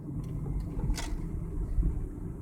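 A 2001 Ford Mustang with a misfire labors uphill, its engine a steady low rumble heard from inside the car, with a brief rattle partway through.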